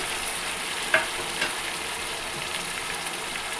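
Tomato paste hits a hot pan of spicy fish curry, giving a steady, broad frying sizzle with a couple of brief stirring clicks near the start, fairly close and with no voices.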